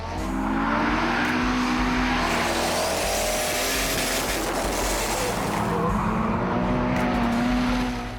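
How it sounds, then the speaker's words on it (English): Drift cars at a team drift practice roar continuously with loud, revving engines and faint tire squeal, sustained near and loud throughout with no talk. "The team drift practice finished off the day, and once again, Team Pierre looked in top form."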